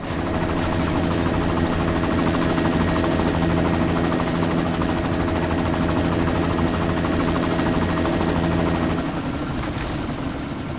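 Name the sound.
helicopter in a video game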